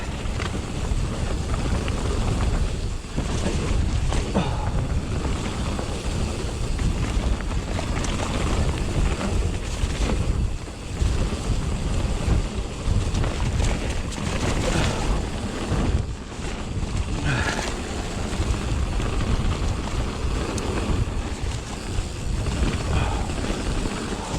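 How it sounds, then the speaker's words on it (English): Strong wind blasts across the microphone on an exposed trail in South Wales, a loud continuous rumbling roar lasting throughout with no let-up and no voices. "Here it's going to be very windy"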